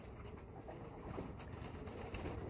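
Soft, low coos of red inbred Schalie pigeons repeat against a quiet ambient background, with faint rustling and occasional higher chirps; no speech.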